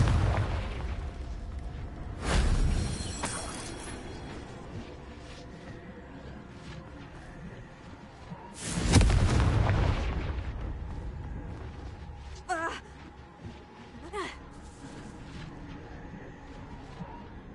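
Confringo explosive spells blast in the Hogwarts Legacy video game: two heavy booming bursts about six seconds apart, each trailing into a rumbling decay, with fainter magical whooshes and chimes between them.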